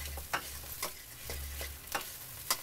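Pineapple fried rice stir-fried in a pan, soft scraping stirs and spatula ticks over a low sizzle, fairly quiet and close, with no talk.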